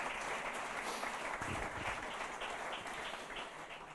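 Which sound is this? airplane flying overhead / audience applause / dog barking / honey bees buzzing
audience applause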